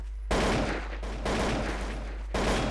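Gunfire in a competitive video game match: three sharp bursts of shots, each cutting in abruptly and ringing for a moment before the next, with no talk.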